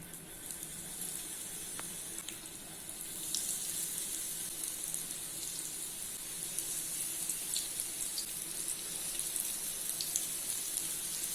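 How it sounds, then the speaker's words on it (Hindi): Suji-coated rohu fish pieces fry in hot oil with a continuous hissing sizzle and light crackles. The frying swells slightly a few seconds in and then holds steady and close. "अभी इसमें फिश के पीसेस ऐड कर लेना है।"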